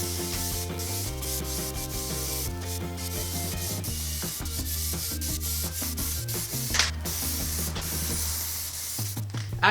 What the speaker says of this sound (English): spray down your second coat